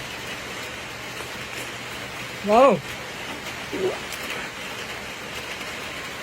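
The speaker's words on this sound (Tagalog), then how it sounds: "Ulan-ulan gid nga bay." Steady rain hisses softly in the background while a voice briefly exclaims once and a faint murmur follows.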